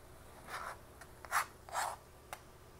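A knife cuts very ripe tomatoes (jitomates) while bistec with potatoes is being prepared Mexican-style. A handful of soft, scraping cutting strokes come in irregular bursts, quiet and close, with no talk.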